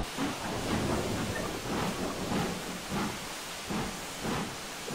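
A GWR Castle steam locomotive in the Train Simulator 2016 game, on a 1950s Riviera route, hisses steam in a steady broadband wash with soft rhythmic surges about every half second. No talking.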